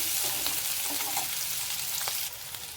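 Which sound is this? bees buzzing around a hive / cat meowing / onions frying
onions frying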